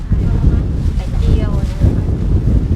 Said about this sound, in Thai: ลมมากเลย